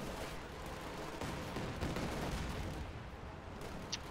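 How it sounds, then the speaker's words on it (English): A Katyusha rocket barrage in Company of Heroes 2 rolls out as a rapid string of overlapping blasts and crackling explosions, loud and dense throughout, with a sharp impact near the end. "this looks like the Katyusha barrage that the Allied players have needed to force off there"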